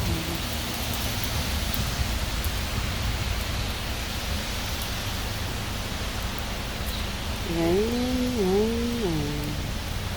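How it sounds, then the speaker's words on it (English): Rain falling steadily, a dense, even hiss that continues throughout, with a brief cat-like meow near the end. "Rain."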